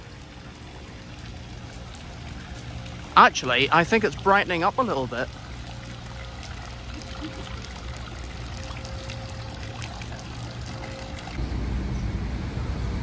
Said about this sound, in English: there is a waterfall